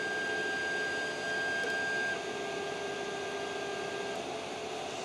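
A Creality CR-10S 3D printer fitted with dampers runs steadily with a soft, even hum and a thin whine, quiet and continuous with no voices.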